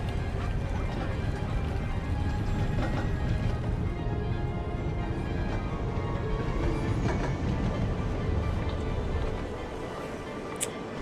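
Monorail train running through a city in Cities: Skylines, a steady low rumbling hum holding at even loudness for most of the stretch before easing slightly near the end, with a faint chime and clicks over the top.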